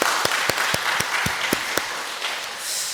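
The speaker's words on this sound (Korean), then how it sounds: "우리 이 시간 하나님께 영광의 박수를 한번 올려드릴까요?" A church congregation applauds during a Sunday morning worship service, with a steady wash of many hands and a few sharper, distinct claps standing out before it fades with faint voices.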